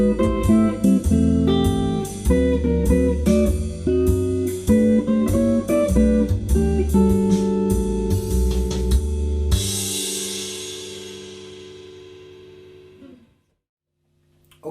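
A jazz guitar plays a chord-solo line over a major 2-5-1 progression, mixing melodic notes and chord hits. A final chord rings out and slowly decays into silence, with no voice heard.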